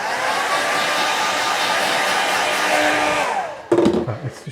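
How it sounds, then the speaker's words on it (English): Hairdryer blowing on a watercolour painting of lakes and mountains, a loud steady whir that winds down after a few seconds, followed by brief knocks and handling sounds. "Quick blast with the hairdryer."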